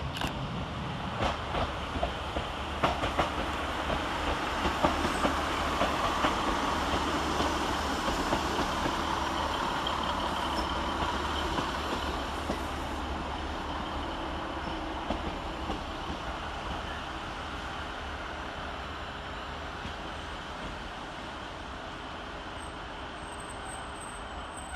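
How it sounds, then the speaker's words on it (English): A Northern class 150 diesel unit, 150-136 on the Rochdale to Clitheroe service, arrives at Blackburn station with a steady engine rumble and wheel noise, slowly easing off as it draws in. "Next up is 150-136 with the 1405 Northern service from Rochdale to Clitheroe."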